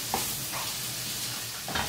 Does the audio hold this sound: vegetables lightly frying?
yes